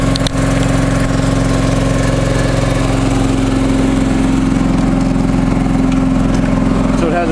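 A restored John Deere 445 lawn tractor drives along with its engine running at a steady, loud, close drone that holds unbroken throughout.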